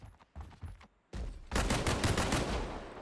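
Automated trash can turret in the game Withstand, shooting: a few short separate shots at first, then a loud continuous burst of rapid fire that runs to the end.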